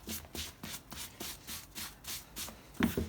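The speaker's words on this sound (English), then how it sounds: "you can rub some into that toe" Polish being rubbed into the toe of a leather boot with a cloth, making a rhythmic series of soft swishing strokes, close and steady, with a slightly louder scuff at the end.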